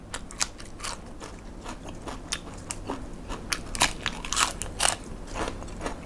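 Someone eats spicy Thai salad of small crab dressed in a tangy sauce, with close, crisp crunching bites and chewing in irregular bursts against a quiet background.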